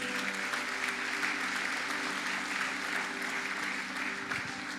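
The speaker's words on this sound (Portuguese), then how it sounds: "Aplauda ao Senhor." A church congregation claps in praise during a Portuguese-language worship service, a loud, dense, sustained wash of many hands with a steady organ-like tone beneath, continuous from start to finish without speech.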